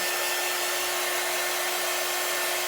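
A hair dryer blows steadily throughout, drying a chalk craft project with a continuous, even whoosh and a faint whine, no talking.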